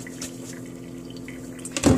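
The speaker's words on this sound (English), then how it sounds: "which one hand we will drain that spaghetti" Cooked spaghetti water being drained at home for a lunch meal, a steady watery pour and trickle running throughout, swelling into a louder splashing gush near the end.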